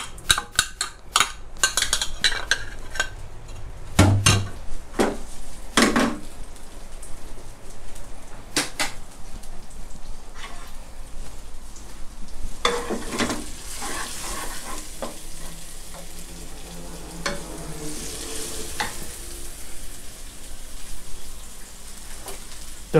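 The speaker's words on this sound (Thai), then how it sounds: "ผัดกับน้ำมันที่เขาหอมๆนะครับ" Chili and garlic stir-frying in oil in a pan over low heat, a steady close sizzle with scraping stirs and clanks of a utensil against the pan throughout.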